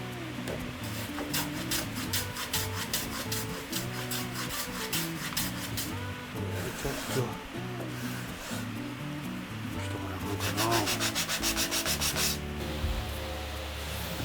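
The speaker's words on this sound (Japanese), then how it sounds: "カンナで削ってやって、そして柔らかく面は大きめになりますけどね取っておきます。" A Japanese kanna hand plane shaves the long and short end-grain edges of a wooden kitchen counter board, giving repeated close rasping, rubbing strokes with bursts of faster scraping under a steady workshop background.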